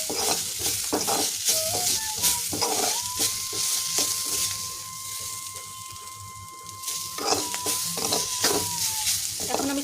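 Telakucha leaves sizzle and fry in a pan while being stirred, with steady close crackling and irregular scraping strokes throughout and a faint thin tone running behind.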